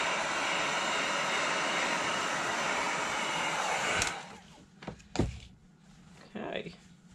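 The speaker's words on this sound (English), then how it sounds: "So I have a heat gun and it works just as well." A heat gun blows on freshly poured paint in a dutch pour, a steady loud hiss that runs for about four seconds before cutting off, leaving a few quieter knocks and handling sounds.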